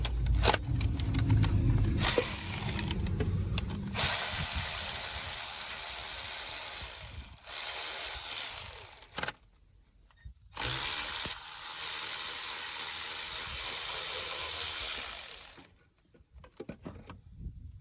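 A ratchet works the two 15 mm alternator bolts loose on a 2007 Trailblazer 4.2, with rapid metallic clicking in long close bursts and brief pauses between them.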